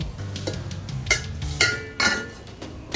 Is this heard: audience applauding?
no